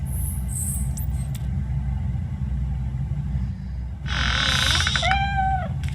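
A cat in the game RoboCop Rogue City gives a short, rising and falling meow near the end, heard over a low, constant rumble of game ambience.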